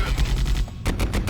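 Pistol fire in Warhammer 40,000: Fire Warrior comes as a rapid series of sharp, punchy shots in quick rhythm, loud and close, with a brief gap midway.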